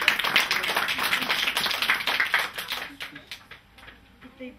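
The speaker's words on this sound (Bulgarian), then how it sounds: "Да ръкопляскаме." A class of children clapping their hands together in a schoolroom, a dense burst of close applause that fades out near the end, with voices mixed in.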